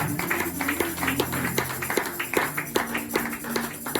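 A church congregation claps to acclaim Jesus, a brisk, steady patter of hand claps in quick rhythm, moderately close, with a faint murmur of voices underneath.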